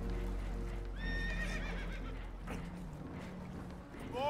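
Spooked horses on a boat taking on water in Red Dead Redemption 2 give loud whinnies and neighs. Hoof clatter and water noise sit beneath them, with faint voices in the background.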